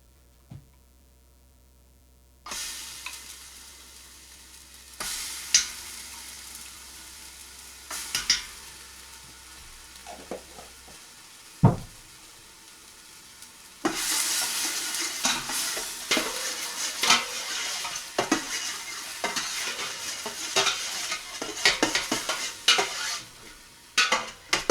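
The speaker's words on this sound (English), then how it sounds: "this will be the stage where you add your onion and your garlic and you saute it until the onions are translucent" Onion and garlic sauté in a pan for homemade chili, giving a steady sizzle broken by repeated stirring scrapes and utensil knocks. Two louder bursts of frying come in, close and clear, and no one speaks.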